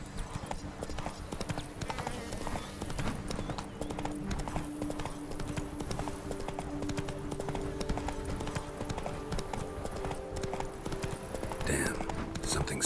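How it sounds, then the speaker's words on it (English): Steady clip-clop of a horse's hooves in The Witcher 3: Blood and Wine, a continuous trotting rhythm heard close throughout with game ambience, and a voice speaks briefly over it. "That's it, Roach."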